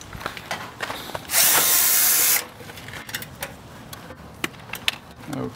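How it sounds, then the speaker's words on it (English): A power tool loosens a screw on an air conditioner's run/start capacitor with one loud, steady whirring burst of about a second, set between quieter clicks and handling noises. "I loosened up the screw right here, and if I need to loosen it a little bit more"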